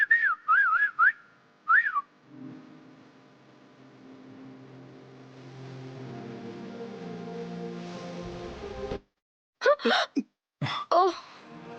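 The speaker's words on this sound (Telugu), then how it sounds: "విజిల్ వేస్తున్నావేంటి?" A person whistles a few short, rising tweets near a moving vehicle as a speed breaker approaches, followed by a steady low engine rumble and then several abrupt, louder bursts of sound.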